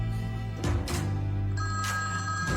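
Phone ringing in a One Tree Hill TV episode, repeated electronic ring bursts heard over a low music bed, moderately loud and close.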